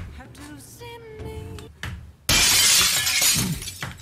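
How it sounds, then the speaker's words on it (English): Glass shatters with a loud, sudden crash in the Persona 5 Royal video game, and bright fragments spray and ring out after quieter game tones and effects. "The glass sound effect broke it."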